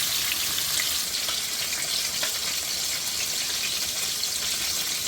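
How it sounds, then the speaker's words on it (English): Steady, bright sizzling of green tomatoes frying in hot oil in a pan, continuous and close, with scattered tiny pops and no voices. "Y'all see how pretty they are frying up here?"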